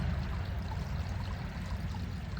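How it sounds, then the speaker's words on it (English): Close by, a small creek flows in the outdoors, a steady, soft babble and trickle of water that runs on with no voices. "I'll just sit here enjoying this little creek a little bit more"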